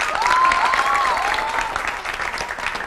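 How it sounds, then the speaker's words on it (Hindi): A studio audience on a Pakistani TV weekend talk show breaks into applause, steady clapping with a few whoops or cheers rising over it early on, then tapering slightly. "तालियों से पता चलेगा"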